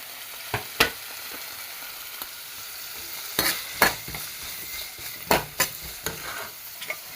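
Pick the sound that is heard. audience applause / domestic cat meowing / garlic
garlic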